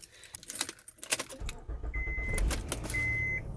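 Keys jangle sharply as a key slides into the ignition of a 2007 Honda Pilot, followed by a low hum and two brief electronic chime tones, close and moderately quiet, no voices.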